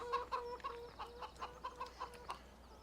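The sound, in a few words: chickens clucking in a video game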